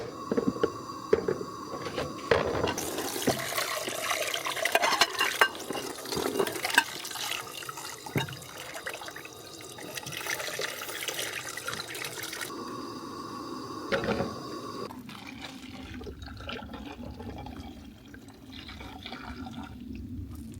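Camping dishes being washed with stove-heated warm water, close splashing, pouring and dripping with clattering handling that continues, with some pauses, for the whole stretch.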